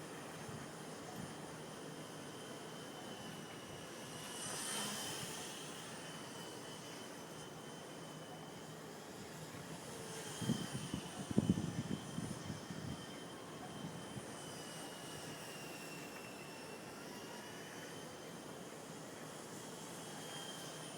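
A Xtreme Productions Solo Pro 328 RC airplane flies fast outdoors, its faint distant engine whine droning steadily and swelling twice as it passes nearer, with no voices.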